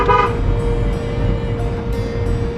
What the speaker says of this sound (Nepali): हर्न मार